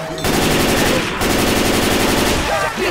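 Rapid automatic gunfire blasts continuously at the Tank in the video game Left 4 Dead 2, loud and sustained with a brief break midway, then chaotic game effects at the end.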